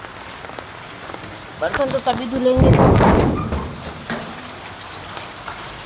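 Steady rain falls during a monsoon downpour around a one-room home, a constant hiss under someone speaking Hindi, with a few brief knocks and clatters in the middle.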